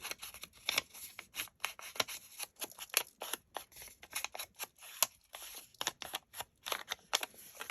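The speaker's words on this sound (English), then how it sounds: "I'm not good at left-handed tearing, so I'm going to turn it over and do it on the right." Paper torn by hand for a shabby-chic craft project, a long run of quick, close ripping and rustling strokes in an uneven rhythm, fairly quiet, with no talking.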